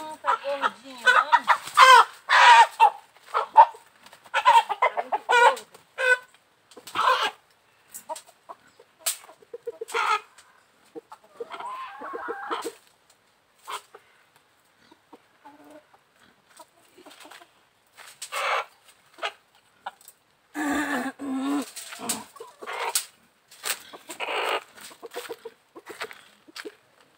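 Chickens cluck repeatedly at close range on a farm, with bursts of clucking and a rooster-like call scattered through, while someone talks over and between them.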